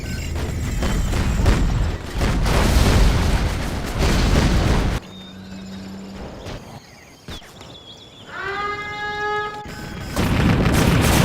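Heavy booms and explosions fill a Command & Conquer Generals skirmish as a nuclear missile strike lands, loud and rumbling. They are followed by quieter battlefield noise and unit chatter tones, then more blasts.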